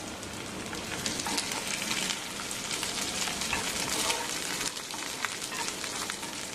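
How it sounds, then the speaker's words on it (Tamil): Onions roast in hot oil in a pan while being stirred for a mutton fry, a steady dense sizzle with scraping stir strokes running throughout, close and fairly loud, no talking. "வெங்காயம் நல்லா ரோஸ்ட் ஆகட்டும்."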